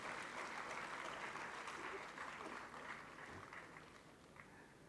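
An audience claps at a speech event, a steady wash of applause that gradually fades slightly, with faint crowd murmur underneath.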